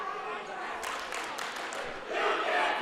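A high school basketball crowd shouts and jeers in protest at a referee's call, with a rising roar of voices and some clapping under commentary.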